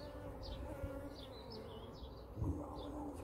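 Honey bees buzz steadily around an open hive in a UK apiary, a close, continuous drone with individual bees passing near, plus a soft knock partway through.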